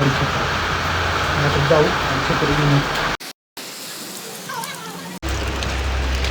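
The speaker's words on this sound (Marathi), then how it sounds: "बाहेर चालू आहे पाऊस" Rain falls in a dense, steady hiss, broken by a brief drop to silence midway, with faint voices mixed in.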